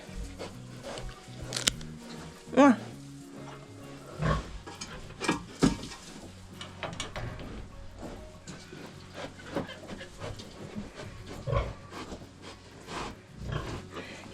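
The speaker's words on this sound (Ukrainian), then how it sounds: "дивись, свинюшка." Pig oinking and grunting in a farmyard, several short bursts scattered across the clip at close range, with people moving about and talking nearby.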